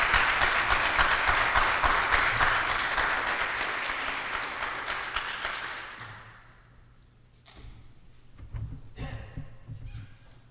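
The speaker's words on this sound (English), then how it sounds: "just another round of applause for choice, for RLA, for everything that Indiana's doing" Applause from a pep-rally crowd for RLA in Indiana, a dense, loud wash of clapping that thins and fades after several seconds, leaving scattered claps and low rumbling room noise.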